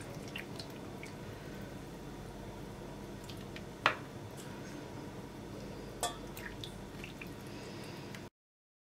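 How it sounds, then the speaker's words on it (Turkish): Warm syrup poured over baked Turkish rose dessert (gül tatlısı) in a glass baking dish, giving a soft, steady liquid wash with a couple of sharp clinks, close and quiet. "Ilık olan şerbeti tam üzerlerine gelecek şekilde döküyorum."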